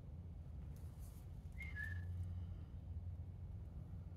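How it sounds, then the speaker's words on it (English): In a quiet Ohio forest, someone gives a short, faint two-note whistle from a distance over a low, steady background rumble, and nothing else stands out. "Anybody whistle?"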